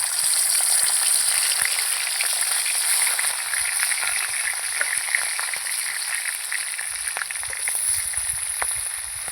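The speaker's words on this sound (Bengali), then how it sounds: "এবার আমি মাছটা দিয়ে দেব প্রথমে মাথা ভেজে নেব" Bhetki fish heads fry in hot oil with a loud, steady, close-up crackling sizzle that goes on without a break and has no talking over it.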